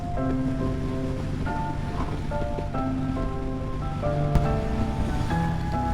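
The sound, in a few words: wind blowing head-on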